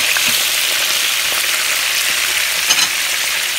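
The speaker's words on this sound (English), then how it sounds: "I've been moving the chicken around and I'm gonna flip it now." Chicken frying in a pan for chicken marsala, a loud steady close-up sizzle with crackles and spatter, a brief bump from the pieces being shifted near the end.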